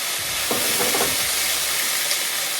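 Peppers hit a hot wok with browned MSG and fry with a loud, dense sizzle. A few brief scraping stirs sound through the constant hiss.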